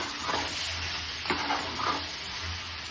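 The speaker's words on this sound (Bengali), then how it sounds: "নেড়েচেড়ে মিশিয়ে দেব।" Mutton masala sizzles steadily in a kadai while a spatula stirs through it, with a few distinct scraping strokes over a constant close frying hiss.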